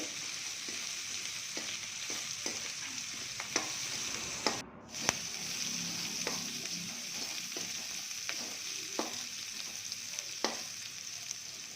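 Onion, curry leaves and salt sauté in a pan for a simple tomato chutney. The close, continuous sizzle is broken by regular spatula scrapes and one brief gap, with no voices.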